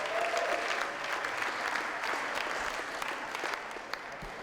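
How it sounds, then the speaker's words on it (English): An audience at an evening spelling bee competition gives a big round of applause, dense steady clapping heard from within the room that carries on for several seconds before easing slightly. "Big round of applause"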